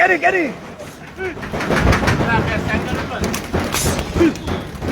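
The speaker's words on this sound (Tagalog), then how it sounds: "hanggang ngayon lumalabas pa po yung mga ibon natin. Napakarami po mga ibon." Racing pigeons are released at a club training in Tarlac, with bird calls and fluttering thumps mixed with people's voices nearby.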